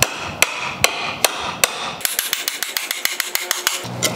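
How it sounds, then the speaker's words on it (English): Sharp hammer strikes on a nail driven into wood, first slow and evenly spaced, then a quicker run of lighter taps, close and loud. "so I can just drive this nail right in"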